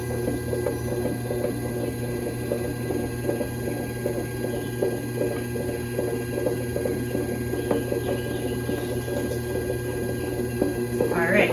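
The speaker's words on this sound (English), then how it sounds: "As I get it taller, I'm going to slow down the wheel so I have a little bit more control" A potter's wheel spins steadily under a clay cylinder being thrown, a close mechanical hum with a rhythmic ticking whir, while clay rubs softly against the hands.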